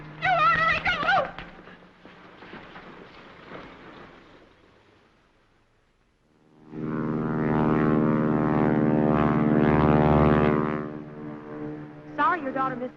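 A propeller airplane takes off, its engine drone rising into a loud, steady roar that holds for several seconds before easing off, with voices before and after.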